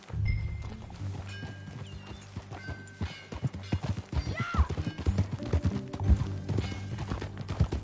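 Horse hooves clip-clop steadily in a video game, a close, rhythmic run of hoof strikes with a brief whinny partway through.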